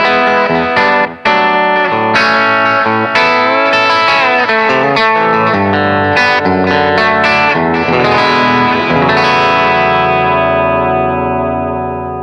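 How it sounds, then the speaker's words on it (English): Electric guitar on its bridge pickup, played through a modelled Princeton amp with a clean tone, rings out as steady strummed and picked chords with sustained notes and reverb-tinged decay, alone with no talk. "The back pickup through a Princeton."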